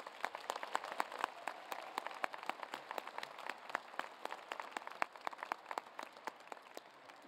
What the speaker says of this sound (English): Please join the Dean in a round of applause for all our master's degree recipients.